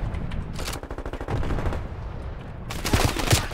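Gunfire in the Call of Duty video game, with bursts of rapid automatic shots in a loud, cluttered mix that flares up again near the end.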